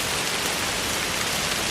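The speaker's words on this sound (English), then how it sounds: "Within minutes, rain poured down." Heavy rain pours down in a dense, unbroken hiss during a woodland hike, loud and steady from start to finish with no voices.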